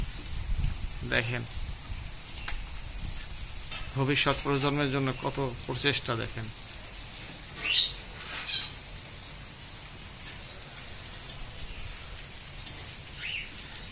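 Steady rain falls on crows sheltering their eggs during Cyclone Remal, a constant wash of drops beneath someone speaking, with occasional cat-like meows or bird calls breaking through.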